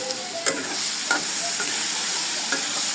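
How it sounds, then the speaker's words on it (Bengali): Onions and dried loitta fish fry in a pan, a steady close sizzle broken by a few sharp scrapes of a spatula as they are stirred and browned; no one speaks. "এখন নেড়ে চেড়ে অনেক বাদামি কালার করে নিব"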